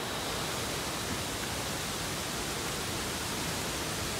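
A waterfall near a suspension bridge at Situ Gunung gives a constant, dense rush of broadband white noise. It stays even, with no breaks and no voices.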